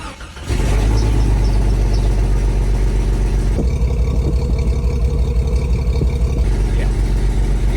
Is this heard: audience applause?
no